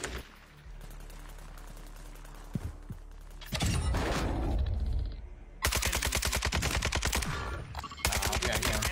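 Video game gunfire rattles through windows in rapid automatic bursts, starting after a quiet stretch with a single shot and rising into loud, dense fusillades with a brief pause between volleys.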